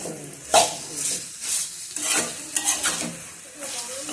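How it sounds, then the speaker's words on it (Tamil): Tomatoes sauté in a pan for South Indian tomato chutney, with a spoon scraping and stirring in repeated bursts over a soft sizzle, close up and with no talk. "இப்போ இதை நம்ம நல்லா வதக்கி விட்டுக்கலாங்க."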